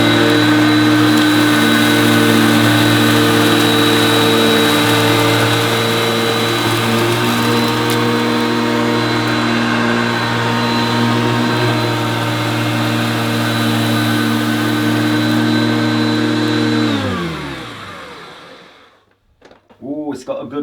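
A Hoover Concept One Power Drive U3335 upright vacuum cleaner runs loud and close on dirt with a steady motor whine, then winds down and stops near the end, followed by brief handling noise.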